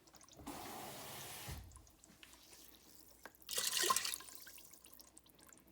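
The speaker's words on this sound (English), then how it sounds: "I'm just going to put enough water in there to cover the pasta" Water is poured into an Instant Pot over dry pasta in a home kitchen, one gushing pour of about a second followed by a louder, brighter splash a few seconds later, with quiet gaps between.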